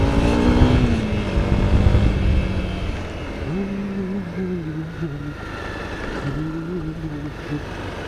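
A motorcycle is ridden at an event by a blue lake, its engine droning loud and close at first, then shifting through rising and falling tones as it pulls away and revs, with a continuous hum underneath.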